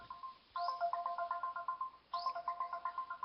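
A cell phone and a house phone ring at once, giving quiet repeated electronic trilling bursts in two rhythmic rounds with a short pause between them.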